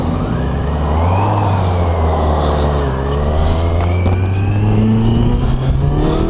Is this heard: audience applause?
no